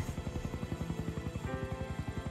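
A rescue helicopter arrives at a plane crash site in Canada, its rotor beating in a loud, steady, rapid thump that continues throughout with no voices.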